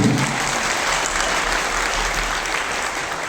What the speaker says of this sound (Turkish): Pendik Belediye Başkanımız Ahmet Çin'e şöyle bir alkış alabilir miyim?